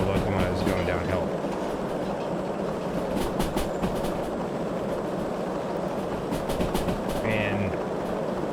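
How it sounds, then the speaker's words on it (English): A heavy freight locomotive rolls downhill in Derail Valley with a tonnage train in the rain, a loud continuous rumble of wheels on rails with rhythmic clicking and squeals, a voice talking over it. "while the locomotive is going downhill"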